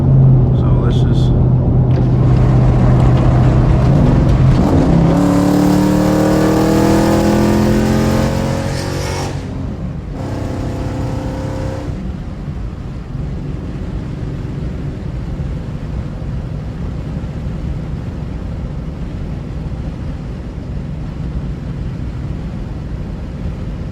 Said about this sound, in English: I feel like I should bless you guys with more of the audio on this car